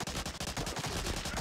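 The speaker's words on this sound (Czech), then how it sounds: "někdo po mě střílí" Rapid, continuous bursts of gunfire in the video game Medal of Honor: Allied Assault, loud and dense, rattling like automatic weapons firing nonstop.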